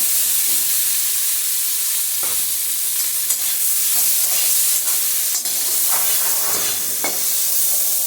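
Boiled sweet potato frying with salt and turmeric in a pan gives a steady close sizzle and hiss, broken by occasional stirring scrapes and clatters, with no voices.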